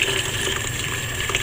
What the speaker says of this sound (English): pour it through this here colander